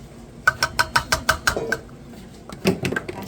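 Metal utensil clinks rapidly against a bowl while madeleine batter with lemon zest and lemon juice is mixed, a quick run of regular taps, a pause, then a few more close, sharp clinks.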